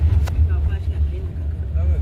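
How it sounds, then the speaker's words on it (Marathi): A car drives along a ghat section road near Dronoba Hill in Raigad, giving a steady low engine rumble from inside the vehicle with faint road noise. "हे बघ कसली जाते गाडी"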